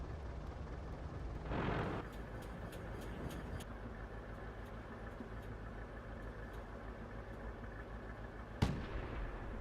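Tank cannons fire in World of Tanks: one booming blast near the start and a sharp crack near the end, over a steady engine rumble.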